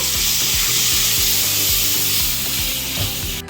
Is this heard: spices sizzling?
yes